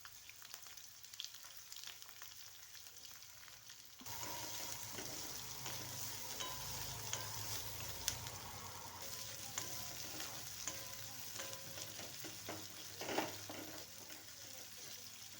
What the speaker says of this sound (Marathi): मोहरी टाकली की जिरं टाकून घ्यायचं कढीपत्ता आणि मी आता उभा कांदा चिरलेला आहे तो कांदा यात मी घालून घेणार आहे